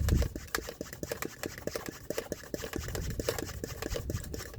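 An IK Foam Sprayer 1.5 hand pump is worked to build pressure before spraying wheels on a Honda Accord, a rapid run of rhythmic squeaky strokes and soft thumps, close and moderately loud.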